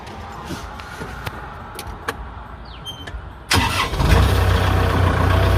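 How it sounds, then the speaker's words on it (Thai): A Kubota L5018 tractor with a sugarcane grab attachment cranks its engine. Several short clicks come first over a quiet outdoor background, then the engine fires abruptly and settles into a loud, steady idle. "เดี๋ยวเราลองสตาร์ทฟังเสียงเครื่องยนต์ดูนะครับ"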